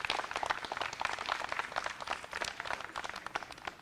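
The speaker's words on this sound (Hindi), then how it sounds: "मैं चाहूंगा कि ये लोग अपने लिए एक बार जोरदार तालियां बजाकर स्वागत करें" Crowd of residents in a Karol Bagh residential complex in Delhi applauding, a dense, steady patter of many hands clapping together at moderate distance, with no talk over it.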